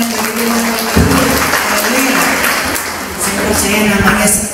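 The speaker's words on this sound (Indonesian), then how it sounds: "berikan tepuk tangan" A church congregation in Kertosono, Indonesia, claps together in a dense, continuous patter while a voice and music continue over it.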